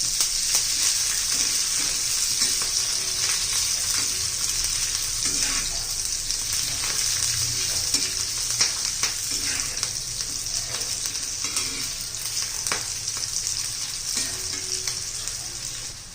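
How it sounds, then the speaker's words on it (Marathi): Green chilies roast in hot oil with a loud, steady sizzle and spatter up close, broken now and then by stirring scrapes, lasting throughout with no voices. "चांगल्या मिरच्या अशा भाजून घ्यायच्या आपल्याला तेलामध्ये."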